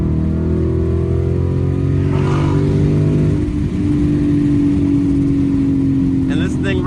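A Ford Mustang GT with a V8 and six-speed manual gearbox revs loudly from the driver's seat, its engine note rising and holding steady under load. A brief change in pitch midway suggests a shift, then the drone continues.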